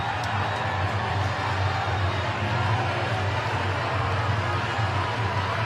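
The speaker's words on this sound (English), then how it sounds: "Fans can cheer on back-to-back goals." A college lacrosse crowd at the NCAA men's semifinal between Duke and Maryland keeps up steady, distant cheering and roaring through the clip, a broad wash of many voices with no single call standing out.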